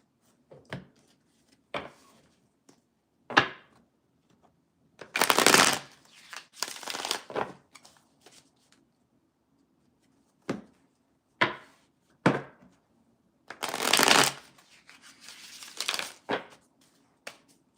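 Tarot cards are shuffled during a reading, heard as scattered crisp taps and several longer riffling bursts, close and fairly quiet with pauses between.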